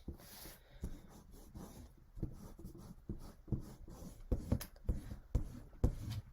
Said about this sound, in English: Make sure you're doing this with your magic rub and not with a pencil eraser